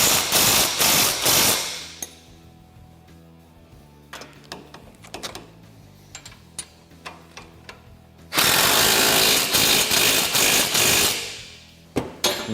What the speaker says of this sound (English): Just going to go through and fully tighten our radius arm hardware.